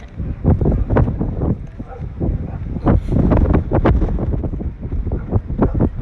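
Strong wind buffets the microphone in gusty, low rumbling bursts outdoors, loud and continuous throughout, with people talking briefly over it.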